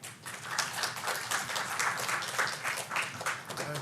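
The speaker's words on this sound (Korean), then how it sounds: "우리 송은철 교수님 나오실 때 우리 큰 박수로 우리 환영하도록 하겠습니다." An audience at an academic seminar on the Reformation claps steadily to welcome a professor to the stage, a dense continuous round of applause heard from within the hall.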